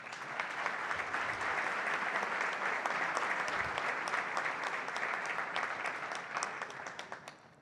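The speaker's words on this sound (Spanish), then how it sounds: "Un fuerte aplauso para ella." An audience at a public forum on corruption and administrative accountability breaks into warm, sustained applause, holding strong and even before thinning and fading out toward the end.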